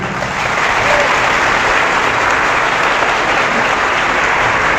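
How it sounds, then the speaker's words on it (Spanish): Dense, continuous applause from an audience at a church debate, a loud, even wash of clapping with no voices over it. "Un aplauso para él."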